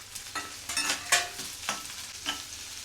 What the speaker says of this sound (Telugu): భలే ఫ్రై అవుతున్నాయి చూడు, ఎంత బాగున్నాయో అసలు. చక్కగా ఫ్రై అవుతాయి.